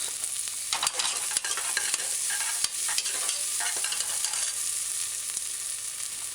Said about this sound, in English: Then add the mashed garlic cloves.